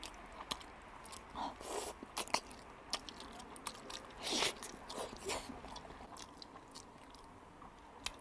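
Spicy braised pig trotters with wide noodles are chewed close to the microphone, a quiet run of wet bites, soft squishes and occasional crunches in an uneven rhythm.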